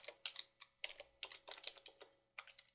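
Typing on a computer keyboard while entering a code comment, heard as quick bursts of close, crisp key clicks with brief pauses between groups, alone with no talk.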